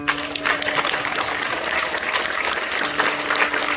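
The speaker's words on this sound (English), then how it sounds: "Can I get a round of applause for everyone that's been up here before me?" An audience at a live fundraising concert applauds steadily and densely throughout, with a faint sustained tone running underneath the clapping.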